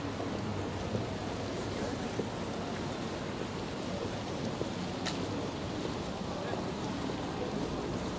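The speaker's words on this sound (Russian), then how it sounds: "Ветер дует." Wind blows steadily across a microphone in a city centre, giving a dense, continuous outdoor rush that stays at an even level throughout, with no clear speech.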